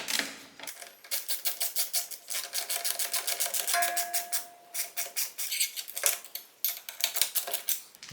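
A 10mm spanner works on a footrest bolt of a classic large-frame Vespa, giving dense rapid metallic ticking and clicking in quick bursts, close and fairly loud, with short pauses between runs.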